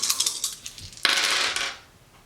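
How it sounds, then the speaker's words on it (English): Dice tumble onto a table during a solo game of the board game Oaxaca: Crafts of a Culture, with light clatter at first, then a sharp loud rattle that quickly fades. "So we'll roll the dice and see what pops up."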